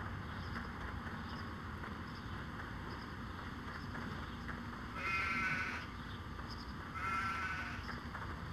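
Sheep bleat in the video game Stubbs the Zombie: two short, fairly close bleats about two seconds apart, over a steady windy outdoor ambience with no talking.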